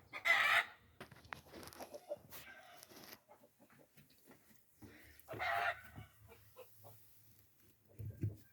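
Chickens in a coop with a rooster crowing, loud crows near the start and again midway, scattered clucks and rustling between them, and outdoor background sounds.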